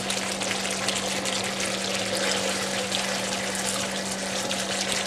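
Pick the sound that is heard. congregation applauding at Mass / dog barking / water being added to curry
water being added to curry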